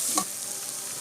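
Chicken pieces dropped into sizzling masala in a pan for chicken kulambu, a brief soft thud and spatter at the start giving way to a steady, faint hiss, close by with no voices.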